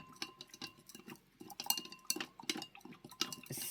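Sticky gum arabic being stirred in a container, with close, irregular clinks and scrapes of the utensil against the sides, faint and quick, building into brighter clusters of taps toward the end.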